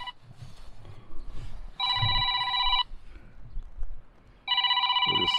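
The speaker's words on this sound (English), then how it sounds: "Oh, there's my phone." A mobile phone ringtone rings in two loud, steady electronic bursts, with a pause between them, near a 1968 Ford Mustang coupe under restoration, over quiet background noise.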